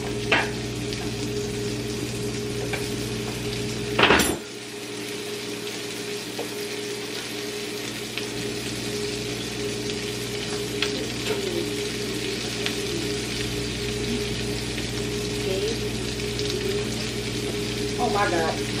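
Chicken frying in a pan, a continuous steady sizzle with a sharp clatter early on and faint kitchen noises scattered through, no talk over it.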